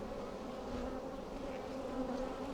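Honey bees drone in a dense, steady buzz around open hives full of honey, a close, continuous hum with no pauses.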